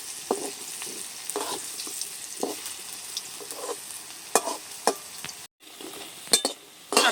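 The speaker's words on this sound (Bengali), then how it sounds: "ডালের বড়িগুলো আমি নেড়ে নিচ্ছি সব দিকটাই সুন্দর করে লাল করে ভেজে নেবো" Lentil dumplings (bori) fry in hot oil, sizzling steadily while a utensil stirs them with repeated scraping clinks, close and fairly loud, with a brief gap near the end.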